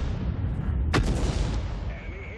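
A tank cannon fires once in the World of Tanks video game, a loud, close boom with a sharp crack that rings out and decays over a low rumble of engine noise.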